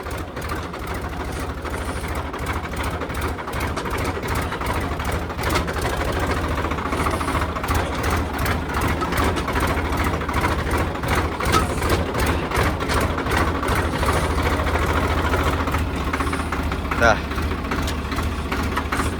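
A Swaraj 744 4WD tractor engine runs steadily and close by, a continuous throbbing drone that holds for the whole stretch with a faint knocking texture and no pauses.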